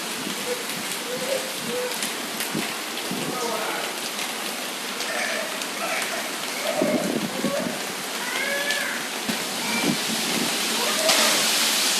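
Steady rain pours down in a dense hiss, with faint voices and a few high chirping calls in the background.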